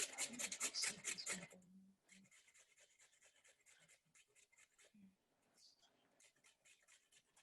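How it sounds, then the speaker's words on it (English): Food is grated by hand in quick rhythmic rasping strokes, loud at first and then softer and steadier, with someone speaking briefly in between. "Nearly finished grating."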